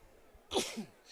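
A commentator at an NPSL soccer match between Muskegon Risers and Duluth FC sneezes once, a single short, sharp burst, fairly faint against the quiet background.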